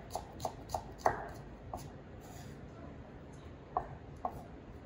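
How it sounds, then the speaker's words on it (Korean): A knife slices bellflower root (doraji) into thin 0.2 cm strips on a cutting board, producing light, fairly faint taps in an uneven rhythm, a quick cluster followed by a few scattered cuts, with no voices. "썰어주기"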